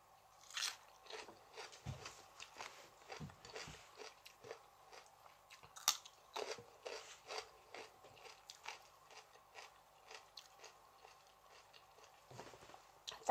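Papaya salad with fermented fish (som tam pla ra) being eaten close up, with repeated crunchy bites and wet chewing in an irregular rhythm, fairly quiet and without talk.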